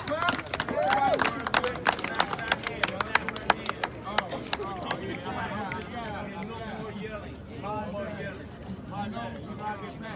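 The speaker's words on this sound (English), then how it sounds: "Clap." A crowd claps at a nighttime George Floyd memorial sit-in protest in Minnesota, with scattered sharp claps early on that fade into a loose murmur of voices and crowd noise.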